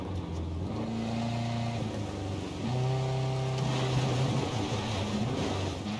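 A vehicle driving in Ghost Recon Breakpoint, its engine droning steadily with tonal rises and falls as it shifts and revs, loud and continuous throughout.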